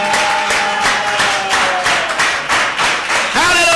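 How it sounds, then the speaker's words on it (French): Audience applause at a church sermon, a dense rhythmic wash of hand clapping filling the whole stretch, loud and close, with a voice rising at the very end. "Applaudissements."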